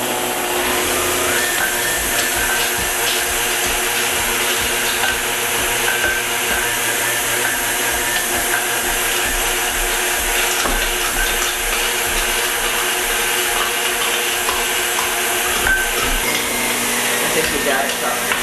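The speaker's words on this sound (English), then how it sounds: "we're just gonna grind the carrots in the meat grinder." A meat grinder grinds carrots with a loud, steady motorized whir that runs continuously for the whole stretch, with faint crunching and rattling mixed into the drone.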